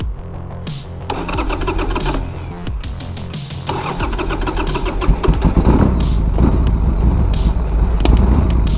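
A cheap used Harley-Davidson motorcycle with the choke pulled out cranks with rapid starter chatter, sputters, then catches and settles into a loud, rough, close idle that grows steadier.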